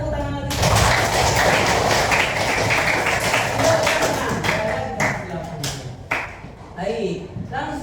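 A class of students in room 8J breaks into a dense round of applause. The clapping is steady and crowded for several seconds, then thins out into scattered claps, with voices mixed in.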